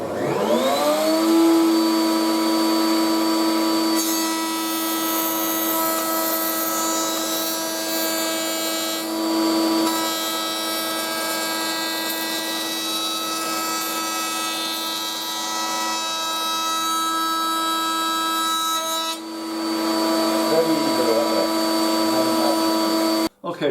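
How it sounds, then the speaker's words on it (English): A router station used as a jointer cuts along a wooden board with a loud, sustained high-pitched motor whine and steady cutting roar, spinning up at the start and dropping off near the end. "that was using the router station as a jointer"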